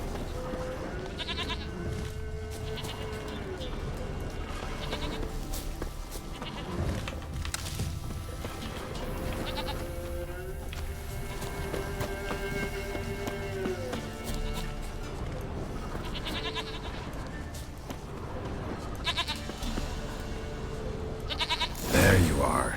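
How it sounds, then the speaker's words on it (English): A goat bleats repeatedly in The Witcher 3, several wavering cries spread over a long stretch, alongside hoof clip-clops, ambient game sounds and a voice speaking between the calls. "Here, goat."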